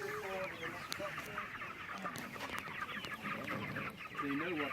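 Broiler chickens cluck and murmur continuously inside a movable shelter out in a pasture, a dense, steady flock chatter at close range with scattered louder calls and no talking.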